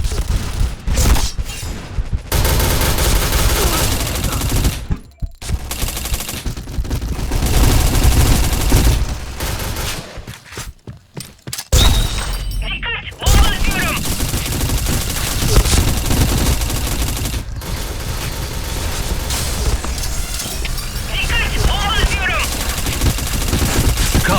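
Sustained gunfire from a Point Blank shooter match on the Library map, with loud, dense bursts of automatic fire and booms running almost continuously, broken by brief quiet gaps.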